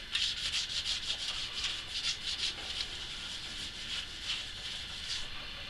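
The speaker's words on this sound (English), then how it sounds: "Wipe down everything when you're TIG welding." TIG welding rods being wiped down with a cloth, producing quiet, close, rhythmic rubbing strokes that repeat steadily with slight pauses.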